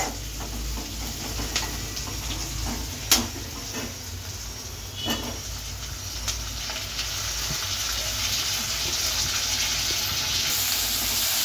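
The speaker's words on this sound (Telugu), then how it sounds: "మనం టమాటా కూడా లైట్గా ఫ్రై చేసుకుందాం" Chopped tomatoes frying lightly in a pan, a steady close sizzle running throughout with a few soft clinks of a utensil, no talking.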